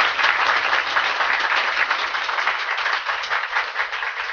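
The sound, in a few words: audience clapping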